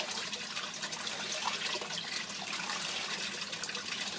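An aquaponics bell siphon drains with a continuous, faint gurgling rush of water that holds steady throughout. No voices are heard.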